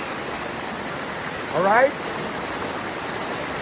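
Rushing river water roars steadily and close at the Ancient River water slide, a broad continuous wash with a brief spoken word from someone in the middle.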